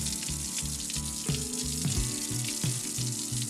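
Water splashes and runs over toy cars at a toy car wash in a hissing, continuous spray, with a rhythmic musical backing beneath it.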